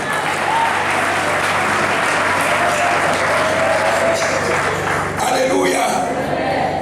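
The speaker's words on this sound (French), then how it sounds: "Acclame Jésus" A church congregation applauds during a sermon, loud sustained clapping filling the space with crowd voices mixed in, easing slightly near the end.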